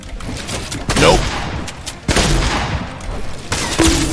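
Gunfire in the video game Fortnite, Arena mode: bursts of rapid shots and booming blasts in dense overlapping volleys, loud and near, with a few brief tonal game sounds mixed in.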